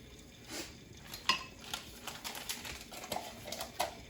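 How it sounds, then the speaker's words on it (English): A spoon stirs cream of mushroom soup mixed with milk, giving soft scraping and a few light, sharp clinks against the bowl. The stirring is close, quiet and irregular, with no talking. "Now we're going to stir that like so."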